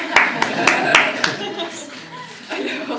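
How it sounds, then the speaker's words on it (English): Hand clapping during a program evaluation meeting, a handful of sharp claps in a quick, even rhythm at close range, followed by talk and soft chuckling. "I just want to clap on that"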